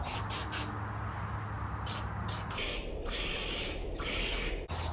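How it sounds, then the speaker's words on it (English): Carb and choke cleaner sprays from an aerosol can onto a fuse and relay box on a Kawasaki Teryx 800 side-by-side, with several close hissing bursts of varying length separated by brief pauses. "I'm just gonna rinse it off with some carbon choke cleaner"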